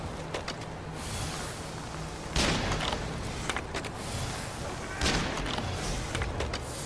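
Gunfire in the video game Nioh, a few sharp loud shots cracking out at intervals over a busy background of game sound and voices.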